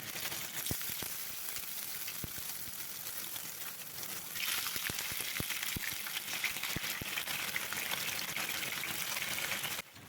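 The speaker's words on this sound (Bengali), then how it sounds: "এবার আমি এক এক করে পনিরগুলো তেলের মধ্যে দিয়ে সুন্দর করে ভেজে নেব" Paneer pieces frying in mustard oil, a steady close hissing sizzle with scattered pops that swells louder about midway and holds until it cuts off near the end.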